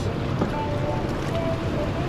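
Hot tub jets running with a hose held in the water give a steady, loud, close churning rush with no breaks.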